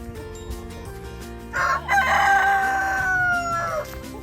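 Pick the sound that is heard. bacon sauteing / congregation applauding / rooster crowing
rooster crowing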